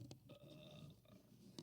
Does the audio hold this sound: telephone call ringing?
no